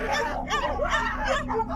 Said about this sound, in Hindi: सारे कुत्ते विवेक को नोच खसोटना शुरू कर देते हैं